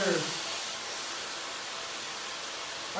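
A hair dryer blows continuously with a steady, loud broadband whoosh, close by and unchanging throughout.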